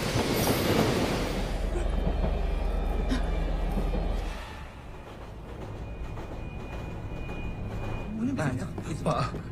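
A train rumbles through a dark tunnel, a loud, steady low roar with rattling carriages that eases slightly midway, with faint squeals and voices underneath.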